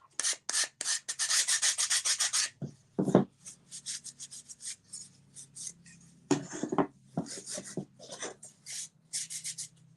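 Hand sanding of small wooden craft pieces: a close, steady series of short rasping strokes, some quick and some longer, with brief pauses between passes.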